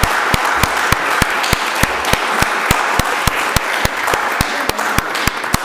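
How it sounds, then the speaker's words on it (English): A room of attendees at a DEI commission candidate forum gives a sustained round of applause, with one sharp clap standing out in a steady, evenly spaced rhythm above the broad crowd clapping. "join me in with a round of applause of gratitude"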